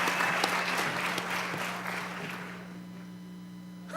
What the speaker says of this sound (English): Y'all applaud in case he's listening.